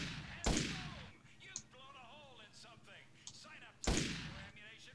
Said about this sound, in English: Let's quiz a few shots on those bottles, shall we? Shoot the bottles.